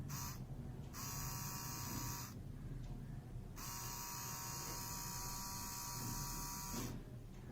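A really small DC motor runs steadily on a 13.3-volt DC power supply, a continuous high buzzing whine with brief dips where the load changes, close and loud with no talking.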